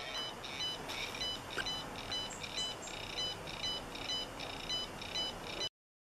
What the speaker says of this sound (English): You can hear it ringing in the background.